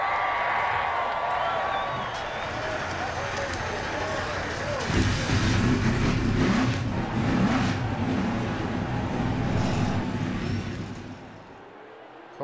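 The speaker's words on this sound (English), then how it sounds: "Drivers, start your engines!" Multiple TA2 race car engines fire up at Talladega, a loud roar swelling from about the middle onward and rumbling under steady announcer talk, with crowd noise in the background.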